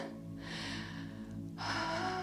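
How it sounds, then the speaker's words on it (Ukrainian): During a yoga session, a slow deep breath is drawn in and then released, soft and close, with a faint steady hum in the background. "Робимо глибокий вдих, видих і трішки невеликий наклон."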